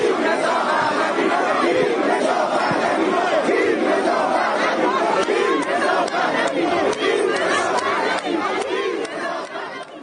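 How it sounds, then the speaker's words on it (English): A large protest crowd chants in unison, loud and continuous with rhythmic shouted phrases, fading slightly at the end. "the crowd is saying King Reza Pahlavi instead"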